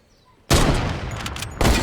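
Sniper gunfire in a shooting video game bursts in loud and sudden after a quiet start, a dense crackling volley that holds, then a second loud burst near the end.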